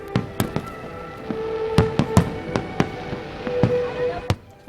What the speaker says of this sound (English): Finally, everyone got to see the fireworks.